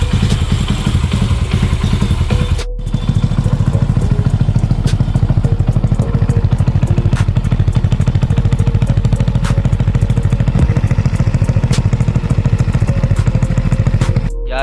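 A modified Honda Wave motorcycle with a clutch conversion idles close and loud, its engine rumbling in a steady, slightly uneven thump, with a brief dip near the start and small clattery ticks.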